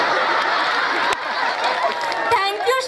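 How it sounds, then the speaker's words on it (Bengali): A crowd at a Sadi Balak Sangha event claps loudly in a dense, sustained wash of applause, with voices and a little cheering mixed in. "জোরে হাততালি হয়ে যাক"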